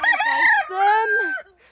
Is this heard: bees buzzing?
no